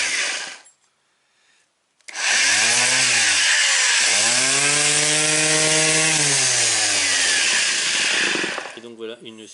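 A power sander grinds filler off a metal spatula, starting after a short pause and running loud and steady for several seconds, with a shifting whining pitch as the blade is worked, then stopping abruptly.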